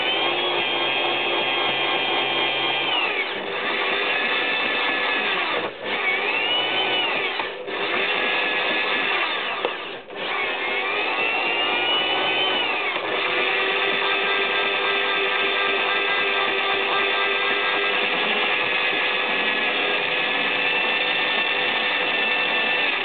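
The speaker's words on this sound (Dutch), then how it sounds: "Ik laat steeds de boor de andere kant opdraaien." A drill bores into a 650 cylinder head with a steady, continuous whine lasting over twenty seconds, briefly dipping a few times as the work pauses, with no talking.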